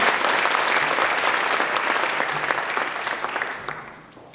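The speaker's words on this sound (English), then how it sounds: "give a round of applause to all of those students who worked so diligently to earn awards this semester" An audience at a college spring graduation and awards ceremony claps loudly and densely, the steady applause running for several seconds before tapering off toward the end.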